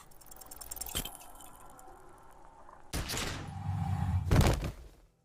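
A single gunshot rings out in the detective game Disco Elysium, a sharp broadband crack near the start followed by a quiet stretch, then two heavier low-end bursts of game sound effects later on.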